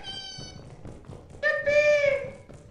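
A cat in the video game Lethal Company gives a few drawn-out, tonal meows, the loudest one late, close and moderately loud.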